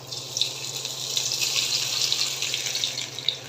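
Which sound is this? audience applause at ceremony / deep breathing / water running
water running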